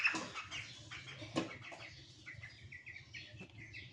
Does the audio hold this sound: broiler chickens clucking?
yes